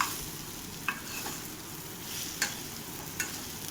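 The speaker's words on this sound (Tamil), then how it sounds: "4 பூண்டு பல்லை நல்லா தட்டி இதோட சேர்த்துக்கோங்க. வறுவல் நல்லா வாசனையாக இருக்கும். இப்போ அதை நல்லா ஒரு தடவை கலந்து விட்டுக்கோங்க." A brinjal fry with crushed garlic is stirred in a pan, giving a steady frying sizzle broken by a few sharp clicks of the spoon against the pan, close and clear with no talk.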